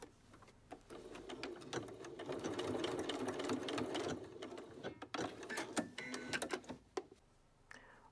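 A sewing machine stitches a jacket collar at close range, running in fast mechanical bursts with brief pauses and clicking handling sounds between runs.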